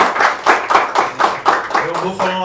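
A church congregation at a cell group altar service claps in a rhythmic, pulsing pattern, about two claps per second, with a voice speaking near the end.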